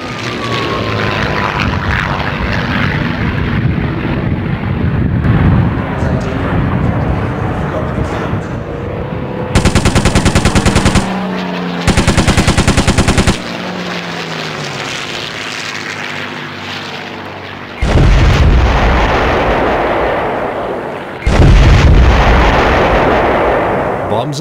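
WW2 Pacific airshow display at Classic Fighters with a Spitfire and Kittyhawk attacking a ground target: loud sustained aircraft engine roar, bursts of simulated anti-aircraft fire and heavy booming blasts, with a commentator talking over it.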